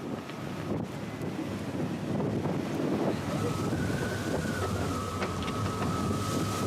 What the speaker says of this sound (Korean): 예상을 뛰어넘는 엄청난 바람이 밀려온다